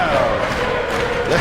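Dense arena crowd at a Mosconi Cup pool match roars and cheers continuously, loud and close, with whoops and shouts rising near the end.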